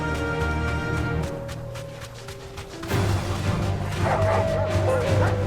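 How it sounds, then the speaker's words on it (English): Aggravated dogs bark and yip in Final Fantasy 16, repeated sharp calls over a dense, loud game soundscape with music and a louder surge partway through. "Let's see if the dogs will stay aggravated with us the whole way here."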